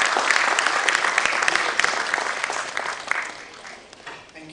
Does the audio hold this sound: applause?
yes